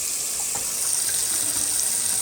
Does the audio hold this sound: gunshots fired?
no